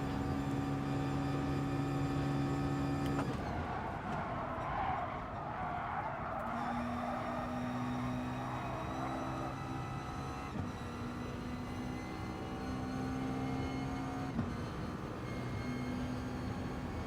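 A race car engine roars steadily in Gran Turismo Sport, its tone climbing and dropping with gear changes as the car laps a circuit, loud and continuous throughout.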